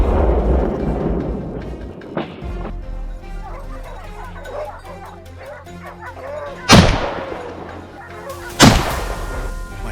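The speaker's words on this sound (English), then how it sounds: "I pulled the trigger and it dropped" A rifle fires during a wild boar hunt: a few sharp, loud cracks, two of them close together near the end, cut through steady dog barking and yipping.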